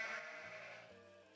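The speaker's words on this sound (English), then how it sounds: "Sheep, sheep," A single sheep bleats nearby, one short wavering cry that trails off over about a second.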